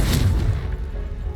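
Spell blasts cast in Hogwarts Legacy, a fire spell, a force push and an exploding curse, crowd into a short loud burst of booming impacts with low rumble, the first strikes sharpest and the rest fading into a dull roar.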